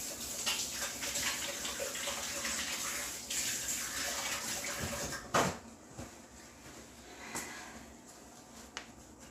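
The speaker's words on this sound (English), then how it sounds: "I should probably wash my hands first." Running tap water splashes over hands at a sink in a home kitchen, a steady wash of water with a few brief knocks and clatters partway through before it tapers off.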